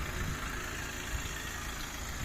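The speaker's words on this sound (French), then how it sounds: "vous pouvez entendre le moteur qui tourne correctement" A VW Touran 1.9 TDI 140 hp diesel, recently fitted with a rebuilt cylinder head and new turbo, idles with an even, steady low rumble and a faint, constant hum.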